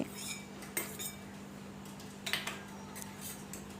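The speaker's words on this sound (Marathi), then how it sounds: "हे तांदूळाचं पीठ या तुपामध्ये दोन ते तीन मिनटं छान असं भाजून घ्यायचं" Rice flour roasting in ghee in a kadhai is stirred with a metal spoon, giving a few light clinks and scrapes against the pan over a low steady hum.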